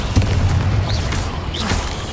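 Incendio fire spell cast in Hogwarts Legacy, a sustained whooshing burst of flame with a rumbling low boom, continuous for a couple of seconds and fairly loud, with game effects swirling above.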